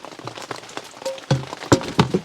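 Heavy rain falling at a campsite, a steady patter of drops striking nearby surfaces with a few sharper, louder splashes standing out against the constant wash.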